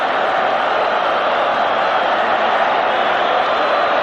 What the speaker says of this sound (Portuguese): Torcida gritando Mengo, Mengo.